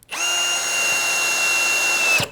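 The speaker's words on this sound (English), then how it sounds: "See how the hammer drill does. Same 1 5/8 screws." A Ryobi ONE+ HP hammer drill drives a 1 5/8 inch screw in one steady, loud, close whine of about two seconds, ending with a brief thump as the screw seats.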